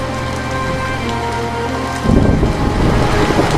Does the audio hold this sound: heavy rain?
yes